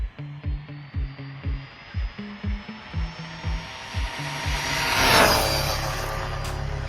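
Rlaarlo DSK RC car on a budget power system, first pulsing in short repeated bursts, then swelling into a loud continuous full-throttle whine that peaks and fades slightly as the car passes.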